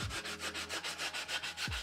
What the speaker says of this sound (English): You just put your pad right on there and then you can start sanding.